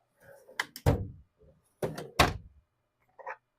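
A drawer in the wheeled base of a Cricut F2 Ultra heat press stand slides and thunks twice, with a short clack near the end, all close by and with no talk over it.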